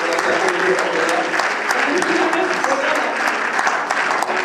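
A church congregation breaks into steady, loud applause, a dense continuous wash of clapping hands filling the room, with voices speaking and calling out underneath throughout.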